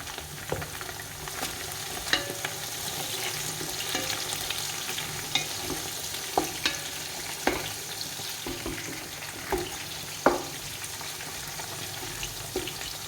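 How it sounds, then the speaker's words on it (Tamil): Mint, coriander leaves and green chillies sauté in oil for Dindigul chicken biryani, a continuous close sizzle with scattered clicks of a spoon stirring against the pan. "புதினா கொத்தமல்லியை நல்லா இந்த எண்ணெயிலே வதக்கி விட்டுக்கலாம் நாலு பச்சை மிளகாய் சேர்த்துக்கலாம்"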